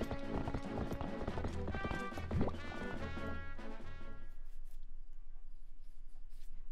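A horse gallops in The Legend of Zelda: Twilight Princess HD, rapid rhythmic hoofbeats under game music, loud for about four seconds before the music thins out to a quiet tail.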